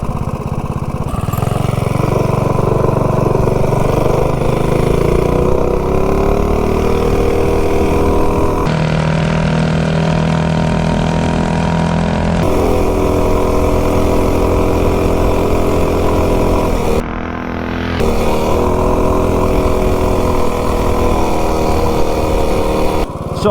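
A mini bike's small engine runs loud and close for over twenty seconds, revving and shifting pitch as it accelerates down a street toward top speed, with a brief dip in the middle and no voices.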